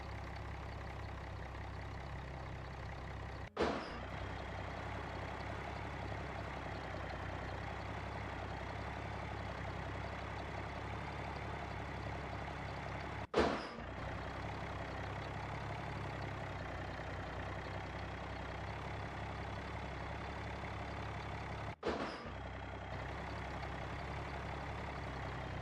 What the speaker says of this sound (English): Well, we'll get the dump truck again